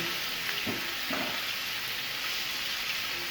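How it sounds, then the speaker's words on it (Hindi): Garlic paste frying in oil in a pan, a steady hiss of sizzling oil with a couple of brief stirring scrapes early on, fairly close and continuous throughout. "मिक्स करेंगे और इसको हम ऑयल में फ्राई कर लेंगे तकरीबन 1 से 2 मिनट के लिए"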